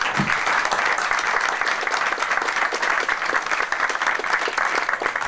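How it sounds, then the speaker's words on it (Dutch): Audience applause at a PVV political rally: a broad, sustained roar of many people clapping, even and loud from start to finish, filling the hall without pause. "Graag een applaus."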